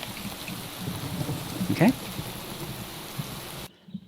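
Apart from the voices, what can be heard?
rain in the video game Minecraft (Dawncraft modpack)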